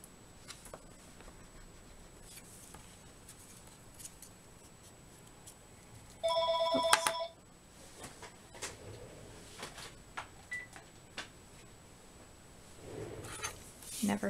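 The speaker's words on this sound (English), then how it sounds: "My phone rings and I always forget to take it out." A mobile phone rings during a card-making craft session, giving one brief burst of bright electronic ringtone beeps for about a second before it stops, against a quiet room with faint handling noises.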